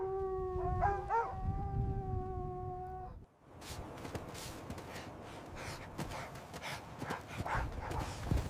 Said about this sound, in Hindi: इतने में कुछ कुत्ते इसे दूर से देख लेते हैं और इसके पीछे लग जाते हैं।